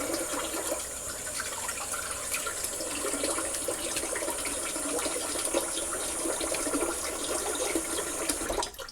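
Tap water runs steadily and close by for about nine seconds, a broadband splashing rush as a face is rinsed with cool water after shaving, with no talk over it.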